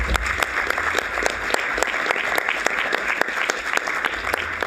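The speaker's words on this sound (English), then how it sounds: "and now you can applaud" Applause at a Board of Trustees meeting: a steady wash of audience clapping with a few sharper, distinct claps standing out near the front, sustained evenly for several seconds.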